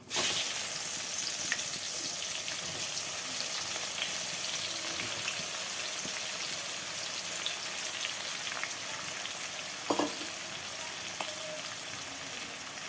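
Chopped onion and whole garam masala fry in oil in the pan used for the potatoes, making a soft, even crackling sizzle like light rain. A few faint clinks of stirring appear, with no talking.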